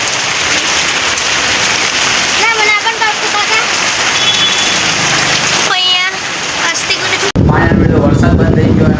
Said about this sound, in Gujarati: જો મસ્ત વરસાદ ચાલુ હોય